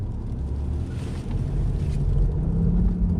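A BMW i8 driving through snow on its mid-mounted engine gives a low, steady rumbling drone that rises slightly as it goes, mixed with wind and road noise.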